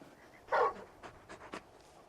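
A large dog in the video game Final Fantasy 16 pants in a few short, quiet huffs and breathy bursts over a faint background.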